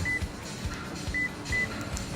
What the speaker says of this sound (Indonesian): Jadi kedengeran kayak suara alarm yang di smart key kayak gini nih